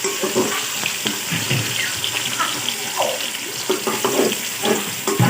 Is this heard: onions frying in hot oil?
yes